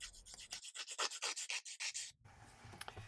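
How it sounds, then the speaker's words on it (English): An emery board rubs in quick, even back-and-forth strokes over the corners of a small wooden piece for a miniature 1:12 scale table, about a dozen close scratchy passes before stopping. "I'm also taking an emery board and just sanding down the sharper corners on the top of that cross."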